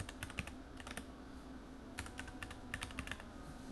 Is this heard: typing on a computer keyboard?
yes